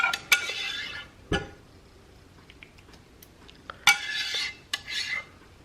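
Biscuits in gravy being mushed around in a baking dish: scattered clinks and scrapes of a utensil against the dish, with short bursts of wet squelching between quieter pauses.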